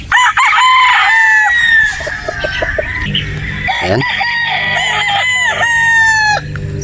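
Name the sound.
rooster crowing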